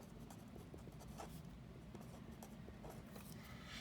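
A pen writes numbers by hand on paper, producing soft continuous scratching with small taps from short strokes, faint and close over a low background hum.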